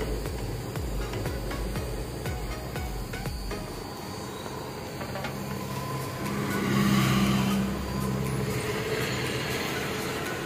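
Trucks passing on a road near Santa Fe on a trip to Tuguegarao City, heavy engine rumble rolling by, with a louder vehicle swelling up and fading past midway, no talk heard.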